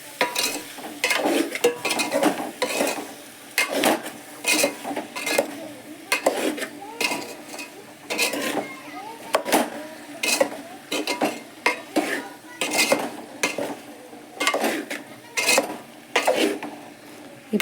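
Potato kurma with salt is stirred in a pan, with repeated scraping and clanking spoon strokes in a steady, busy rhythm over a faint sizzle, close and fairly loud, and no talking.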